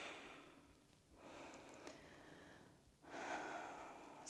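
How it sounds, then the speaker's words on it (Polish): Faint, soft breathing during vinyasa yoga practice: slow inhales and exhales drawn through the nose in a quiet room, with a slightly stronger breath near the end. "Oddychamy."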